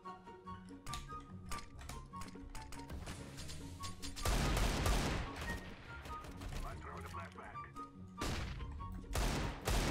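Gunfire in the video game CS:GO, including Desert Eagle pistol shots, rattles in rapid bursts and single cracks with dense explosive stretches, loud and continuous throughout.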